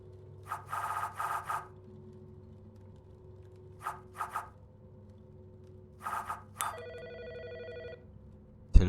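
A telephone rings in the Autopsy Simulator game, with several bursts of electronic bell ringing separated by pauses, followed by a sustained tonal ring, loud and clear over a quiet low hum.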